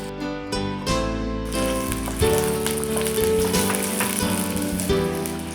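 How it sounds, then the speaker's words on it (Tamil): Onions frying in sesame oil for a spicy Tamil kara chutney give off a steady, dense sizzle that runs throughout, under background music with sustained tones. "நல்லெண்ணெய் ஊற்றி அதில் வெங்காயம் போட்டுக்கிட்டேங்க"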